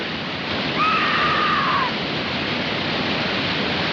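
Rushing waterfall from a 1953 western film scene, a dense, steady wash of falling water with a brief whistling tone drifting across the first seconds, loud and even throughout.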